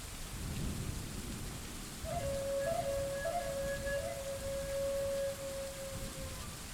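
A steady rainstorm with low thunder rumbling, a constant soft hiss of rain, and a thin sustained tone briefly ringing over it partway through, fairly quiet overall.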